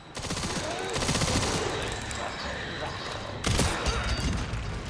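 Rapid video game gunfire in Resident Evil Requiem sounds as dense automatic bursts that rattle loud and close, pause briefly, then erupt again in a fresh sharp volley.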